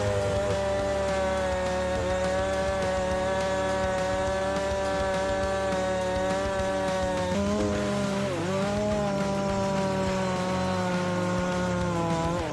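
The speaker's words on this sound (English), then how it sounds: "encounters dense wood, but the chainsaw continues working without hesitation" A chainsaw cutting through dense wood runs continuously at high revs, a loud, near, steady engine drone with one brief dip in pitch partway through as it bites into the wood, then recovers.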